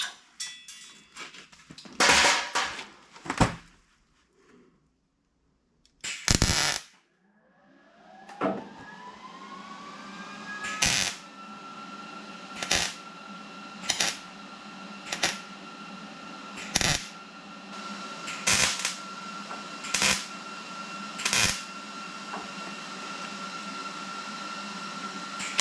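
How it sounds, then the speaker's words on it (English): Tack welding on a steel side panel for a Willys CJ-2A Jeep: a series of sharp, loud crackling bursts spaced every second or so, with a steady electrical hum between them and no voices. "now I'm gonna do a little bit of tack welding, just get it started"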